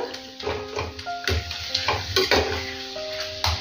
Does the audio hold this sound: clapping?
no